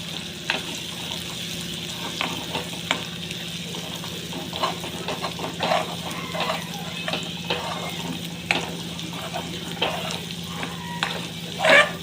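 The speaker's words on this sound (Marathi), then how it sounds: "जे थोडंसं वाटण होतं ना ते आपण तेलात मस्त फ्राय करून घ्यायचं आहे" Leftover ground spice paste sizzles and spatters in hot oil in a pan, a steady close frying crackle with scattered pops and stirring scrapes throughout, with no talk.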